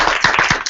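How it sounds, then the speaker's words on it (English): Brief burst of clapping from an audience at an academic talk, a few loud close claps over a dense patter, lasting under a second. "can we give you a round of applause for the first part of that?"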